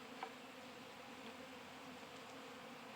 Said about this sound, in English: I don't want all these bees out flying around